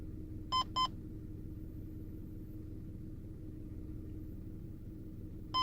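Radar detector K-band alert beeps from inside a moving car: two quick tonal beeps near the start and one more at the end, each sharp and clear above a steady low road and engine rumble.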